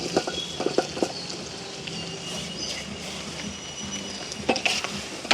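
Onions and chopped chillies fry in a pan as they are stirred, a continuous close sizzle broken by clattering spoon scrapes and knocks against the metal.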